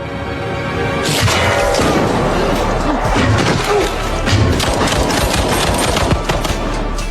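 Loud, dense burst of gunshot cracks and booms over a rumbling, chaotic action soundtrack, sustained throughout with sharp repeated impacts.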